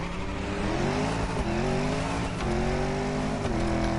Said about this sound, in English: That sounds like the same exact car.